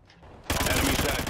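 A light machine gun in Call of Duty: Ghosts opens up after a short quiet moment, a loud, rapid, continuous rattle of shots that lasts to the end.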